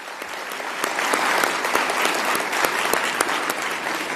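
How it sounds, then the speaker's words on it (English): A conference audience claps in sustained applause after a drum performance at an opening session. The clapping is dense and even, with sharper individual claps standing out, and it fades slightly toward the end. "Let's give them a round of applause."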